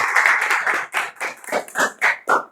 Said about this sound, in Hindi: आप तालियां बजा देंगे।